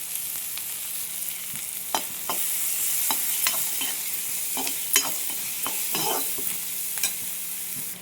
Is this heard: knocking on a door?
no